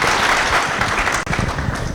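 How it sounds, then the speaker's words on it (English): Audience applause in a lecture hall at a university public health faculty event, dense and steady clapping filling the whole two seconds with a brief dip near the middle, fairly loud and close, no talking. "Please give a clap."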